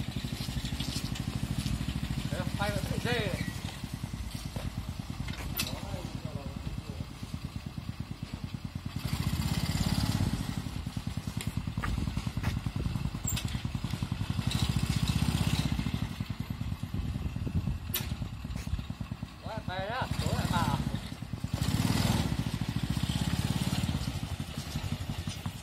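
A homemade car fitted with a motorcycle engine runs with a rattling, puttering engine note that rises and falls over about half a minute, clattering throughout.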